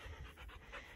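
A rescue dog pants close by in rapid, rhythmic, breathy puffs, quiet but distinct, with nothing else around it.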